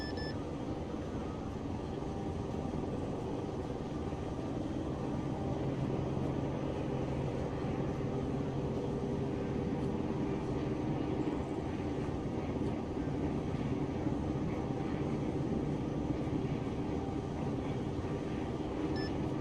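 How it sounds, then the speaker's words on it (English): Helicopter in the game ArmA III lifting off from a parking pad at an air base, a steady loud engine and rotor drone with a low hum running continuously, no talk. "lifting from Mike 3 helicopter parking, direct departure to the east"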